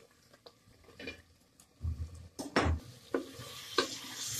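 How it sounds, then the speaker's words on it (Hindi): Masala spices roast in a pan with a light sizzle while a spoon scrapes and stirs them in several distinct bursts. The sound is close and fairly quiet, with no talking. "मसाले को अच्छी तरह भूनने"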